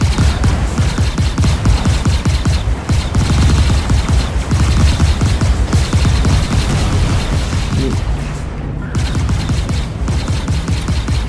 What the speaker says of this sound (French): Un pirate est de retour sur zone et me tire dessus